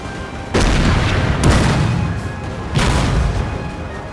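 Cannon barrage in the Napoleon: Total War Prussia campaign: three heavy booms land about a second apart and then after a longer gap, each followed by a rolling rumble over continuous battle noise, with no talk.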